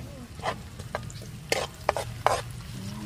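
Chopped onion hits a pan of frying garlic, and the sizzle flares under a steady hiss while a spoon scrapes and clacks against the pan in a few sharp strokes.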